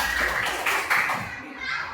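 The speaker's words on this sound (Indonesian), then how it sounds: "Tepuk 1, tepuk 2, tepuk 3, 2 kali tepuk 2 itu 2 kali tepuk 2." Children in a classroom clap along in a counted pattern, quick bursts of hand claps mixed with young voices and chatter, fairly close and busy.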